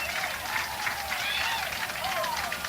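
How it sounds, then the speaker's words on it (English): Broad crowd roar at a 2003 high school baseball district final after a solo home run, a sustained wash of cheering and clapping with a few rising whistles, heard from a distance under faint talk. "A mighty roar of the crowd can be heard in the background."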